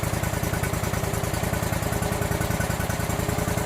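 A lawn mower engine idles while warming up in the morning: a close, steady, loud rumbling putter with a fast even pulse, running continuously throughout.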